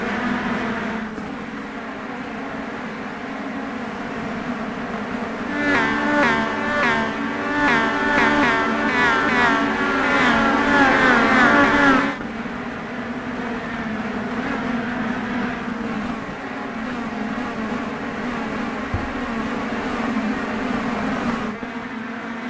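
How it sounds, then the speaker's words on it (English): Race car engines roar in the iRacing game at Nashville Fairgrounds Speedway, a steady drone of cars with a louder passing buzz of several engines in the middle, no talk. "Look at them engines. Listen to them roar."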